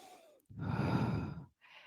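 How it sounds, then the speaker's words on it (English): A single long, audible exhale during a circuit exercise workout, lasting about a second, with soft background sound before and after. "Some nice breathing in and out."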